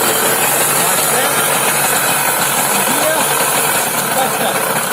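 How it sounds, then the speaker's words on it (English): A small mini motorbike engine idles steadily at close range, a continuous buzzy drone with a faint rapid rattle, holding even throughout. "What you need is the motor to be idling nice and quietly when you first pull it into gear."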